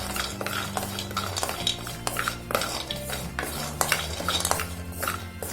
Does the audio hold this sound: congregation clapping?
no